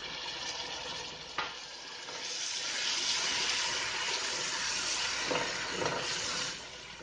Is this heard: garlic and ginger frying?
yes